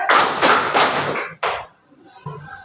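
Children clapping in a rhythmic chant at a school, several quick rounds of claps in a row, then a pause and a faint voice at the end.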